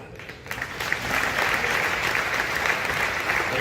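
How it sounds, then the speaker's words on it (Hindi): A live audience at a comedy show bursts into sustained applause, many hands clapping densely and steadily, rising from a scattered start to a full, even roar that holds to the end. "नहीं देखा हो तो पीछे तक ईमानदारी से ताली बजा के बताना"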